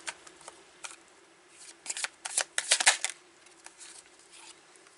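Oracle ancestor cards being shuffled by hand, close and crisp: a series of sharp riffling flutters and slaps, sparse at first, then clustering into a busy flurry before tapering off.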